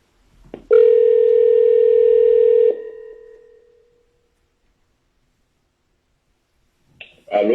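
A steady telephone dial tone sounds loud and clear for about two seconds as a call is placed, then drops to a fading tail, with a click before it and a short noise near the end.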